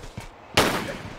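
A pistol fires in Tomb Raider 3, giving one sharp, loud crack with a short decaying tail, preceded by faint softer clicks.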